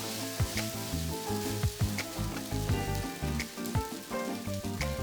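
Rice noodles stir-fried with sauce in a pan for a Lao-style dish, a close, lively sizzle broken by repeated knocks and scrapes of utensils against the pan, with faint music beneath.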